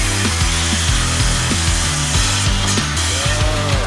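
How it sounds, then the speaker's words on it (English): A DEWALT 20-volt cordless saw crosscuts 3/4 inch double-stacked OSB in a steady series of rough, rhythmic cutting passes, loud and close throughout. "We're going to be cutting 3/4" double stack OSB."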